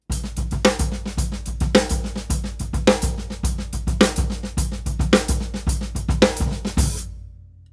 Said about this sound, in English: play the bass drum with all of the right hands, you get something that sounds like this